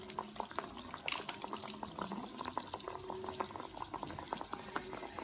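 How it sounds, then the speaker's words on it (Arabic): Lentil falafel (taamiya) patties sizzle and bubble in hot frying oil, a steady crackling fry with scattered pops and light clinks of utensils, close and continuous. "هنا هبدا اقلي الطعميه بتاعتي اهي زي ما انتم شايفين كده"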